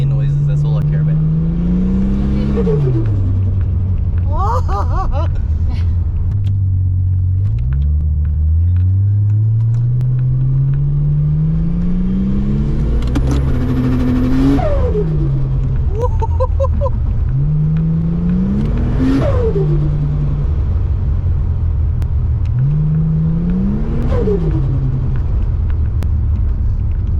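Holden VL Calais Turbo engine revving hard and accelerating through repeated rising surges, loud and close, with a steady engine rumble underneath throughout.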